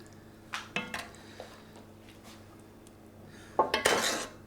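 A cocotte pot is handled while asparagus sauce is plated in a kitchen, giving a few faint metallic clinks and scrapes early on, then a louder cluster of clatters near the end, with no talking.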